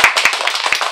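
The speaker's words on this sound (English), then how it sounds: "Everybody applauds." Audience at a youth media awards ceremony clapping, close and loud with individual hand claps distinct in a brief burst.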